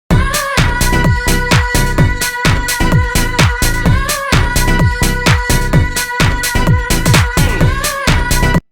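A house track's main hook plays back from Ableton: a punchy four-on-the-floor kick under a bright, repeating synth riff, loud and steady throughout with no voices.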